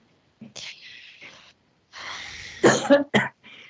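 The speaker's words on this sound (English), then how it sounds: "I have a little cough" A few breathy, raspy coughs and gasps up close, separated by short pauses, with a couple of sharper bursts toward the end.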